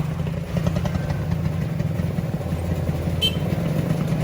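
Motorcycle engine revving hard on a landslide-damaged road between Toraja and Palopo, a loud, rough mid-pitched drone that holds steady and close, with clattering mechanical noise running through it.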